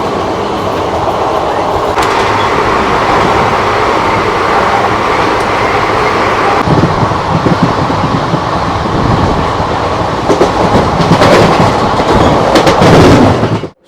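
A passenger train runs loudly on the Kolkata to New Jalpaiguri line as it nears Malda station, a continuous heavy rumble and rattle of wheels and carriages with sharper clatter near the end before it cuts off.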